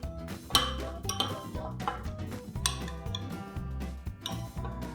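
A spoon stirs sea bass ceviche dressed with a little olive oil in a bowl, giving a close, busy string of irregular metallic clinks and scrapes.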